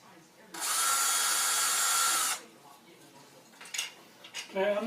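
A loud power drill whirs steadily for about two seconds drilling a hole in a kids' stormtrooper helmet, then stops, leaving faint clinks and shuffling handling noises.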